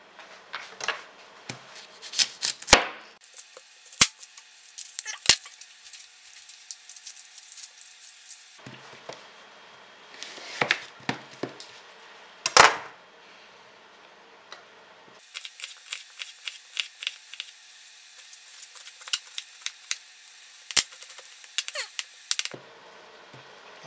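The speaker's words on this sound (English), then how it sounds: "So now I'm going to cut up an onion." An onion being cut up for a spicy Italian tomato sauce, with bursts of crisp close knife chopping and slicing on a board separated by quiet pauses, uneven rhythm, no talking.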